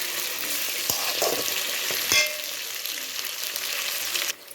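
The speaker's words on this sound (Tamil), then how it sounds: "இப்போ இது எண்ணெயில் நல்லா வதக்கி விடணும்." Eggplant sautés in oil in a pan for a Chettinad-style brinjal thokku, giving a steady close sizzle and frying hiss with a few soft stirring clinks throughout, then dropping off sharply near the end.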